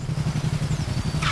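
Motorcycle engine in the racing video game The Crew Motorfest, a low, throbbing idle pulsing in a steady rhythm, close and fairly loud, with a short brighter burst at the very end.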